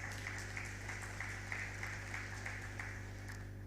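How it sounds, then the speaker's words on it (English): Steady applause from a crowd, continuous even clapping heard from a distance over a low constant hum. "A round of applause."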